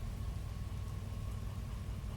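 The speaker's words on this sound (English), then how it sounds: "It's really raining out." Steady, soft rain falling in a rainy train-yard scene in the Derail Valley railway game, a faint even hiss that continues unbroken and with no talk.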